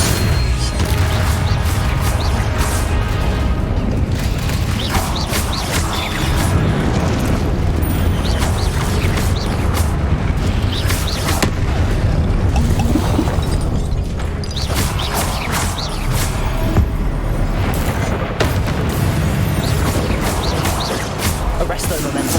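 Confringo spell blasts in Hogwarts Legacy, PC, Dark Arts Pack: repeated heavy booms and crashing impacts during a dense, loud fight with a continuous roar and clatter, one blast landing after another.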